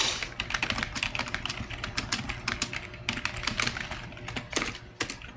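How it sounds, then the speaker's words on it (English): Rapid computer keyboard typing, dense irregular clicks and key taps running steadily throughout, close and fairly loud, with no talking. "Sorry for the typing noises,"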